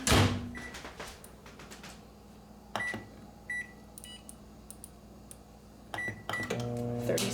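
A microwave oven running at half power to melt butter, with a steady low hum, a door opening and closing with clunks near the start and end, short beeps, and a final rising hum as it starts again.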